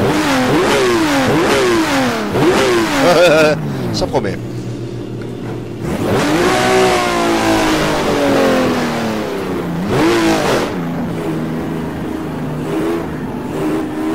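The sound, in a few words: BMW M1 Procar engine revving in Automobilista video game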